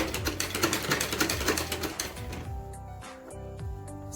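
A sewing machine runs long stitches on a salwar, a rapid mechanical whirr and clatter close by, easing off and slowing partway through into softer, intermittent rattling.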